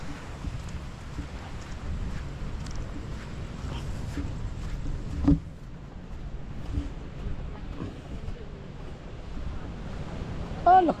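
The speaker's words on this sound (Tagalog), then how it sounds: "Lakas ng hangin. Malakas ang simoy." Strong wind gusts roar across a microphone by the sea, a dense rumbling blast with a sharp knock midway and brief faint sounds near the end.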